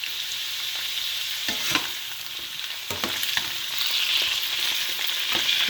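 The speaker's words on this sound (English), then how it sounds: "So we're just gonna let this carrots and potatoes cook a little bit." Carrots and potatoes sizzle steadily in a pan of oil for chicken afritada, a continuous close frying hiss broken by a few sharp crackles and pops, with no talking.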